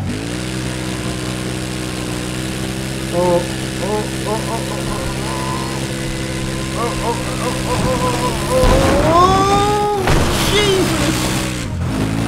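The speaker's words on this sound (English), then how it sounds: "Quad bike for the win!" Quad bike engine in a video game, a steady idling drone that rises into a climbing rev near the end, with excited voices shouting over it.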